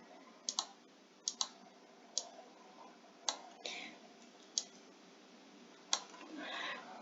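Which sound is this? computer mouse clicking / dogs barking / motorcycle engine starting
computer mouse clicking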